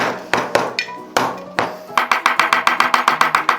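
A hammer strikes an oyster shell to crack it open in a steady run of sharp, close taps, first a few spaced blows and then a rapid, even series, with people talking alongside.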